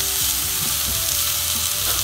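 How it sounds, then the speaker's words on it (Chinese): A beef steak with carrot pieces sizzles and fries in a covered pan, a steady close crackling hiss with no voices. "慢慢的煎，等它煎一会，煎两三分钟的时候，再给它翻一个面"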